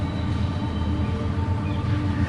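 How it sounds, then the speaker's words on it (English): A train rumbles past on a trail crossing during a Pacific Crest Trail hike, a steady, dense low roar with a faint high whine, continuous and fairly close, with no talking. "Oh, there's the train."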